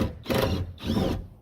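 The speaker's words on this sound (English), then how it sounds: "I've charged up my impact wrench" A cordless impact wrench on an MG TF loosening a long-soaked bolt, two short close bursts of whirring hammering separated by a brief pause.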